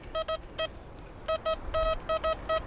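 A string of short electronic beeps from a Deus 2 metal detector in quick bursts, some single and some paired, fairly faint over a soft background hiss.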